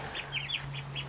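A guinea fowl gives a quick run of harsh, scratchy chirps, five short calls in a rapid rhythm over a low steady hum.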